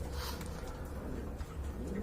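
A pair of Coca pigeons coos in a faint, low, continuous murmur close by, steady throughout with no distinct breaks and no talking.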